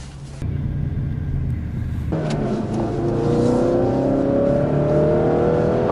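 A Ford Focus RS set to track mode accelerates hard, its engine note climbing steadily in pitch and loudness as revs build, loud and close with a sustained rumble and no talking.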